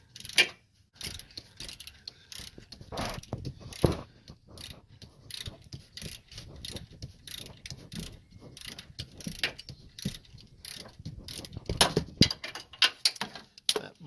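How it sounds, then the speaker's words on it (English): Ratchet wrench working a stubborn bolt on a 2006 Dodge Charger 5.7 Hemi engine during a cam replacement teardown: repeated bursts of close, sharp ratcheting clicks in an uneven rhythm, with brief pauses between strokes. "That bolt's just a little on the stubborn side. It's gonna make me ratchet on it the whole time"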